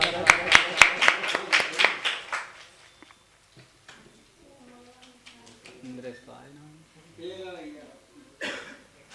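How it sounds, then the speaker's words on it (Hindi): An audience at a Diwali singers' award ceremony claps in a quick, even rhythm of about a dozen sharp beats before the clapping stops and a voice takes over, talking. "इनके स्वागत में जोरदार तालियों के साथ में इनका स्वागत।"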